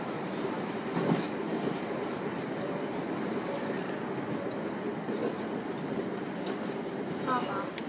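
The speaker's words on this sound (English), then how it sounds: "I'm on the train" Steady rumble and rattle inside a moving train carriage, a continuous close roar with faint clicks of the wheels throughout and no talking.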